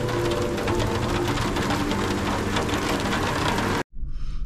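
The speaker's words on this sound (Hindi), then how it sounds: "इतनी तेज बारिश शुरू हो गई है" Heavy rain pours down steadily in the hills around Nathia Gali, heard close from shelter beside a vehicle as a dense, loud roar that cuts off abruptly near the end before resuming faintly.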